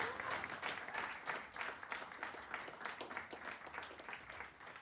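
A church congregation applauding to acclaim the Lord, a continuous burst of many hands clapping together, heard fairly faintly at a distance and sustained for several seconds.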